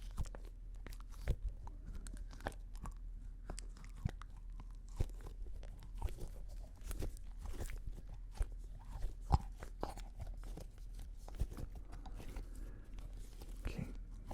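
A pink hair roller squeezed close to the microphone, giving soft crunchy, crinkling squishes in an irregular run of small clicks and rustles. No one speaks, and the sounds stay quiet throughout.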